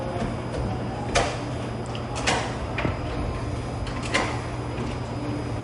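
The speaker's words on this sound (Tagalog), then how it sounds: "Pagbukas ng pinto ng condo unit na ito sa Mandaluyong" A condo unit door in Mandaluyong is opened during a police raid, with a few scattered clicks and bumps from the door and handling over a steady background hum, no talk.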